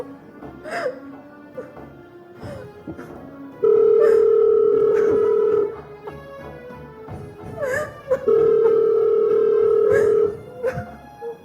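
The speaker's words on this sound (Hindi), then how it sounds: "कोई तो फोन उठाओ।" A telephone rings with two long, steady electronic tones, each about two seconds, set apart by a pause. Faint voices and background commotion fill the gaps.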